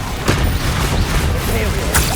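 A Bombarda blasting spell explodes in the video game Hogwarts Legacy, a booming burst inside a dense, continuous wash of combat effects and whooshes.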